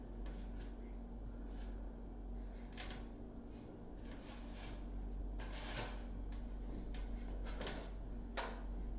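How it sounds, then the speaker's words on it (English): A spatula scrapes and smears putty into a drywall corner in short rasping strokes, soft and close over a low background hum, with scattered sharper scrapes. "make sure I have enough putty on my spatula and then just get it in all the corners"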